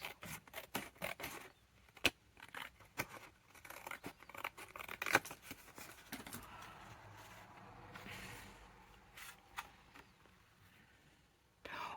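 Scissors snip and trim paper for a handmade journal, giving a run of close, crisp cuts and rustling paper handling with soft low talk between them.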